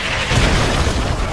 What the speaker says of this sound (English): Fireball!